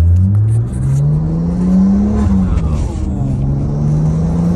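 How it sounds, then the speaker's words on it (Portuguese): A Skyline 34 car accelerates away from a traffic light, its engine rising in pitch from a low drone into a loud, sustained whine that drops and climbs again through a gear change, heard up close from inside the cabin. "Vai dar uma acelerada aí."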